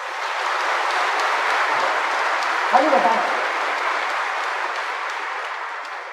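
A conference audience at a business summit clapping, a broad steady wash of applause throughout, with a voice speaking briefly near the middle.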